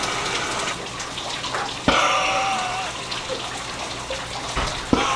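Water gushes steadily from a tap into a bathtub and shower being filled with bubbly water, a continuous close rushing with a couple of sharp knocks and brief murmured voices underneath.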